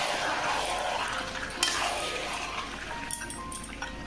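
Marinated chicken being stirred with chili powder in a pan gives a soft, continuous sizzle with occasional clinks and scrapes of a utensil against the metal.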